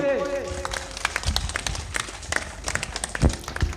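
Applause from the audience at a jatra award ceremony rolls in as a dense, steady patter of many hands, loud and close, with a voice speaking over the start.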